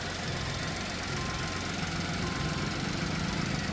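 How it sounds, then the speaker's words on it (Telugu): A 2016 Volkswagen Polo 1.2 engine idles steadily, a continuous low rumble with a faint rhythmic knock, close and unchanging throughout. "మనకి ఇంజిన్ సౌండ్ కానీ అంతా కూడా చాలా బాగుంటుంది"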